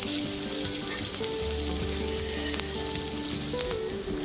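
Chopped garlic sizzles with onions in a hot pan for a creamy chicken pasta, a loud, steady frying hiss that holds throughout, with faint tonal background sound beneath.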